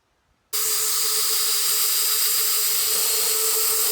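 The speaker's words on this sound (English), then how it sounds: "So I've gone over this shifter, getting out grinder marks and any kind of scratches with it's a 3M roll lock 2-inch arbor" A 3M Roloc 2-inch disc polishes a custom steel SM465 shifter. After a moment of silence, a loud, steady high-pitched whine starts abruptly and holds without a break.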